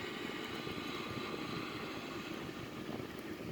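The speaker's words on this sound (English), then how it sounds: "Start the right engine first." Right jet engine of a Sukhoi Su-30M2 starting up: a steady, loud, broadband roar with a whining hiss that holds evenly throughout, with no talk.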